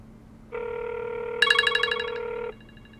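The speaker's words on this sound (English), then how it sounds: "And here, my phone will ring." A VTech CS6529-4B cordless telephone rings nearby, a single sustained electronic ring burst lasting about two seconds with a warbling chirp layered in partway through, loud and clear against a quiet room hum.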